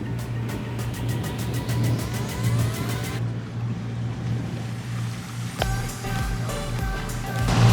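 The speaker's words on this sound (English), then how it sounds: "Since we're motoring to get out of the bay" A sailboat motors out of a bay in Croatia, its engine giving a steady low drone throughout, joined by tonal whines and whistles from the boat's equipment and a brief clatter near the end.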